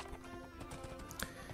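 A horse's hooves clip-clop in Minecraft, a quick, quiet run of soft rhythmic taps over a brief stretch.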